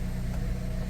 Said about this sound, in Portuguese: Botando o carro a funcionar agora aqui.